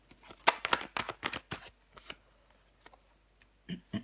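Tarot cards are laid down and slid across a table during a reading, a series of close, soft slaps and papery swishes, clustered early and then sparser.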